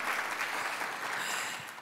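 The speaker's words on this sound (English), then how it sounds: "Could we just give them a round of applause, please?" Audience applause at a conference closing session, steady dense clapping that holds at a strong level and then begins to fade slightly toward the end.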